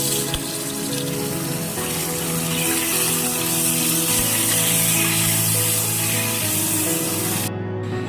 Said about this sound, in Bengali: এবার পটলগুলোকে আমি ভেজে নিচ্ছি।